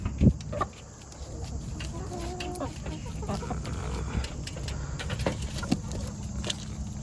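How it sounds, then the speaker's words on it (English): A big limping rooster gives a few low, soft clucks and grunts amid steady background noise, with faint rustling and occasional louder bursts nearby. "Big rooster."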